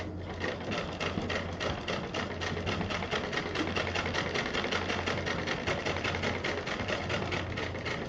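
Sewing machine stitching piping around the edge of a fabric purse, a steady rapid needle rhythm over a low motor hum that runs continuously at an even pace.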